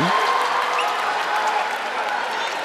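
A partisan basketball crowd cheers and applauds for San Miguel Alab Pilipinas during an ABL game against the Singapore Slingers. The roar is broad, steady and continuous, filling the arena with no single voice standing out.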